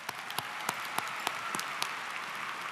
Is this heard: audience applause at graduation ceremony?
yes